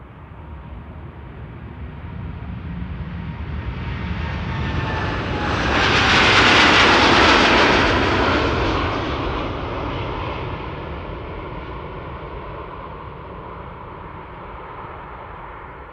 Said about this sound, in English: this is KLM flight 879 to Bangalore in India, 78710